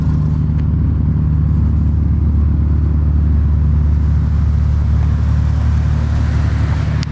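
A Nissan 240SX fitted with a 1JZ engine runs at a loud, steady idle close by, a constant deep rumble with no revving and no talking.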